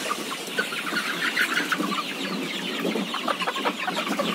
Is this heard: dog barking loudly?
no